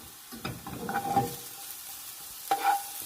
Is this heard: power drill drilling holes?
no